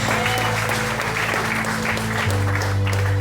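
A church congregation claps together during a worship service, a steady dense wash of applause that fills the room, with music holding underneath.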